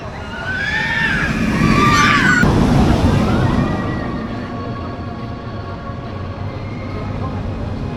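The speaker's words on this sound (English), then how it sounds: "a relaxing trip on the train, just to break up the day a little bit." A train ride at Blackpool Pleasure Beach rumbles along steadily up close, with a squealing wheel screech rising and falling early on over the constant rolling clatter and hum.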